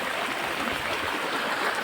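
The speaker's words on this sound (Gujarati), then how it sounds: "અને પાણીનો પ્રવાહ પણ હજી વધતો જાય છે." River swollen by heavy rain rushing past steadily, a dense continuous roar of flowing water with no breaks, close and fairly loud throughout.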